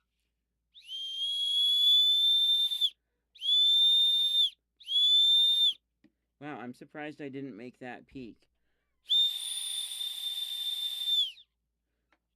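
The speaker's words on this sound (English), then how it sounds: "So a whistle is on the headband." A shrill whistle mounted on a headband is blown in four sustained blasts, close and piercing, with a person speaking briefly between them.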